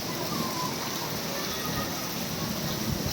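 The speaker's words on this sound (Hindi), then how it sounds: "बहुत तेज़ बारिश है।" Heavy rain pours outside with strong wind: a dense, loud, continuous hiss of falling water that stays steady throughout.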